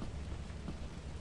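Steady rain hisses in the video game Lethal Company, a dense, even wash of falling water with no other sounds and no voices, holding at an unchanging level throughout.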